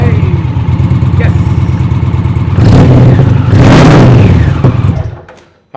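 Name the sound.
Indian motorcycle engine starting and revving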